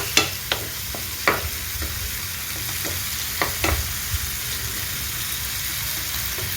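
Capsicum mixture for a paneer dish stir-fried in a pan, a steady low sizzle broken by sharp scraping clacks of the spatula at irregular intervals, close and alone.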